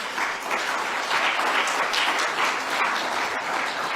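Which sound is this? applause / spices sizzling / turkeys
applause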